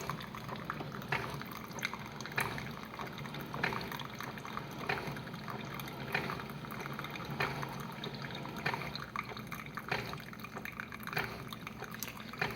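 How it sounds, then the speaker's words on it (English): A Keurig K425 Plus coffee maker brewing at its largest cup size, its pump pushing water up to the brew head in quick, short, regular pulses over a steady watery hiss and drip. "the sound of the mechanism that pushes the water up to the head seems to be faster and shorter pulsations than the View"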